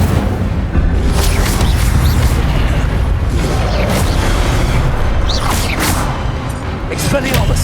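Incendio fire spell bursts in Hogwarts Legacy, repeated booming whooshes over continuous loud combat noise, with a voice calling out spell names throughout.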